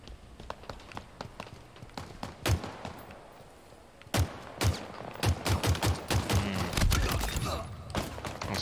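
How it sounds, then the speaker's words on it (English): Repeated gunshots crack and thud against a wall in the shooter game Halo Infinite, coming in irregular close bursts and single loud hits over steady background game noise, with no talking. "Those horrible shots on my wall."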